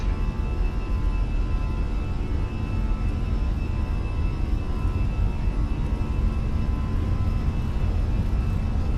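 Airbus A320 jet engines at takeoff thrust in a flight simulator, a steady broadband roar with a faint whine held evenly throughout, loud and continuous with no voices.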